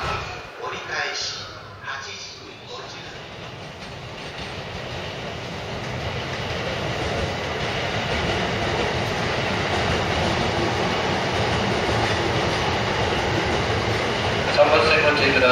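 A 205 series Musashino Line train bound for Hachiōji pulling into Ōmiya station, rising from a faint rumble to a steady loud clatter of wheels on rails as it arrives, with station announcements heard early on.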